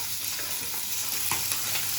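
Oil hisses and crackles in a pan at a steady level, close and continuous, as ingredients fry for liver rice.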